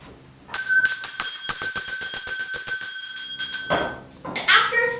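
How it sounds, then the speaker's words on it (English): A school bell rung by a teacher in a pioneer schoolhouse clangs loudly and steadily for about three seconds with rapid, bright ringing, then cuts off; a brief rustle and faint voices follow. "Students were not allowed to enter the school until the teacher rang the bell."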